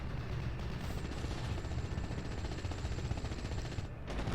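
Tank fire at a machine gun position in Steel Division, heard as a dense, continuous rumble of rapid gunfire and battle noise that holds steady and loud throughout before easing slightly at the end.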